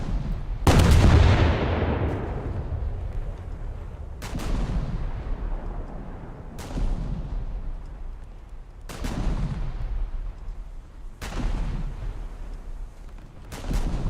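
Heavy turret salvos from a Russian cruiser in a naval video game: five booming shots at steady intervals of roughly two seconds, each a sharp crack trailing off into a long rolling rumble, with no voices.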